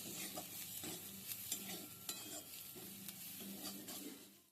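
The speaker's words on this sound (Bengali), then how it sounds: "এবার সব উপকরণগুলো ভালো করে নেড়ে একটু ভেজে নিচ্ছি" Filling frying in a pan with Maggi masala, a steady close sizzle with repeated scraping strokes of a spoon stirring through it, continuous and fairly quiet with no voices.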